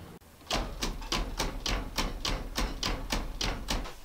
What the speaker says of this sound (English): A Royal typewriter.